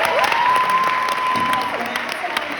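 A leadership conference audience gives a loud round of applause, close and full, with a few cheers mixed in and a tonal sweep running through the clapping.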